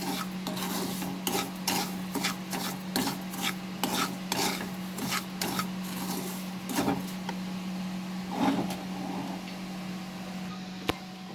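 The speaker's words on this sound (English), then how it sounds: "After mixing the semolina with the ghee, it has absorbed the ghee" Roasted semolina is stirred together with ghee in a pan, producing soft, repeated scraping and rubbing strokes close by over a steady low hum, with a brief sharp click near the end.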